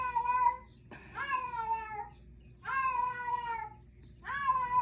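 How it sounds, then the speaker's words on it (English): A female cat in heat yowls in long, drawn-out wailing cries, three of them with short pauses between, loud and close against a low background hum. "I know y'all can hear my cat crying in the background because she's in heat."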